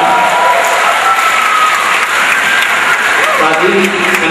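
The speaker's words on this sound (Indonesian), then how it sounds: "Tepuk tangan bagi kita semua" An audience at a speech in Bandung claps warmly, a close, steady burst of applause with a few cheers and a voice speaking over it.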